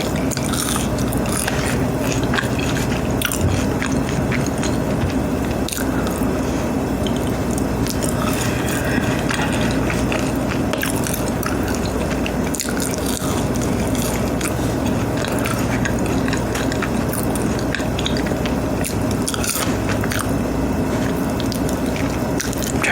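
Steady, close-up crunching and munching of crunchy fries continues throughout, dense and rhythmic with no talking.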